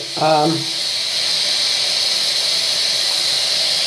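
A properly molded bath bomb fizzes and bubbles in water, giving a steady hiss that continues evenly throughout after a brief voice at the start.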